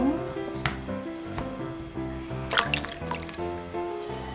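Water poured into a pot holding two palm-sized sheets of kelp, about 1.5 liters for beef and radish soup, with steady liquid trickling and dripping over pot clatter and low background noise.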